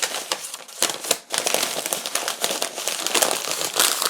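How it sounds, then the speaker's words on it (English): Butcher paper crinkles and rustles continuously as a sandwich is wrapped up, with dense, crisp crackling bursts close by and no talking. "I'll just take a piece of butcher paper because I don't have all the standard deli wrapping paper"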